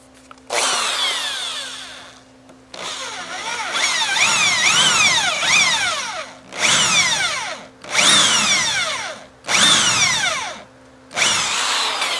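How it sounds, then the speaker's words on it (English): A power drill countersinks lag screws into a log cabin door in repeated bursts of whining, rising and falling pitch, each lasting one to three seconds with short pauses between, loud and close. "I just want to countersink these lag screws just a little bit."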